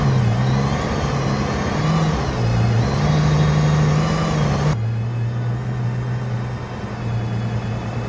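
Aston Martin Valkyrie Spider driven in the snow, its engine droning steadily and loudly with pitch rising and dipping as the car accelerates, continuous throughout with no talking.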